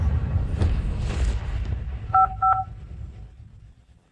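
A telephone number is dialed, producing two short, crisp keypad tones in quick succession after some low rumbling background, then the sound fades out.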